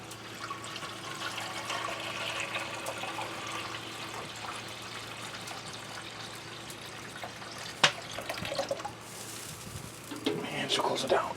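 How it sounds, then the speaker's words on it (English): Water runs and splashes as it is poured into a smoker's water pan, a continuous faint trickling and gurgling at close range with a brief clunk partway through and light talking at times. "And I just fill it up with water."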